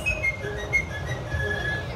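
A person whistles a tune in short, thin, high tones, fairly faint over a steady low background rumble.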